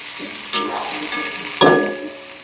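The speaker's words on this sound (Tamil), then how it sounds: "சேர்த்து நல்லா வதக்கி விட்டுடலாம்." Onions and spices sizzle and crackle in a hot pan while being stirred, with a couple of sharper bursts of frying as ingredients shift.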